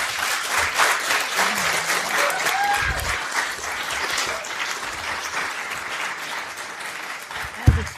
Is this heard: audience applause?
yes